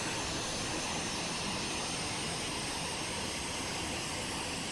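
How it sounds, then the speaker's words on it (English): Engine noise fills the cabin of an Eclipse private jet in flight, a steady broad roar and hiss that never changes, close and continuous, with no voices. "Great little private jet."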